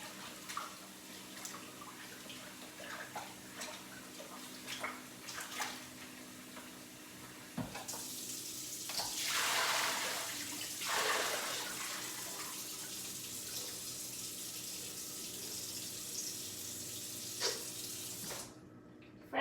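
Tap water running over sprouted buckwheat being rinsed, a faint hiss that swells into a louder splashing gush midway before tapering off, with small clinks around it.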